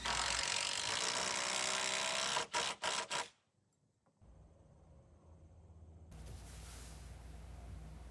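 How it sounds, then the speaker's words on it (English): Five-inch ledger lock screws are driven into a double 2x10 header on a cabin build. A loud, steady impact-driver rattle is followed by a few short bursts, a pause, and then quieter, irregular construction noise. "We are fastening our headers with 5-inch ledger locks."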